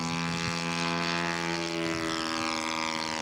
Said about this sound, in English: Jeff Weiss just taxied into position for takeoff with his Spitfire.